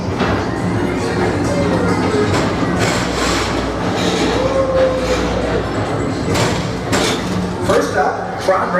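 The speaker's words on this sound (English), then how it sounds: "your express train keeps on rolling through the future" An express ride train at Magic Kingdom in Walt Disney World rolls steadily along its track, a continuous rumble with clattering wheels and faint squeals, while a voice talks over it throughout.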